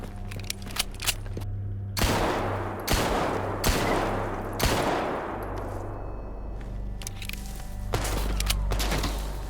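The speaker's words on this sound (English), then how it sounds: "They opened fire the moment I stepped in." Mercenaries open fire in the survival shooter Stalker Gamma, with sharp gunshots cracking out in uneven bursts and echoing decays, fairly close and loud.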